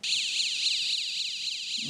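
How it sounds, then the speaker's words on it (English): A grabber cane's built-in shrill electronic alarm wails continuously, sweeping rapidly up and down in pitch, loud and close. "Built-in alarm."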